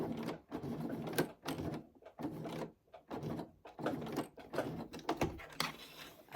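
A sewing machine stitches a square to fix a bag strap in place, with fast mechanical chattering bursts close up. The bursts start and stop several times in uneven runs as the fabric is turned, and no one speaks.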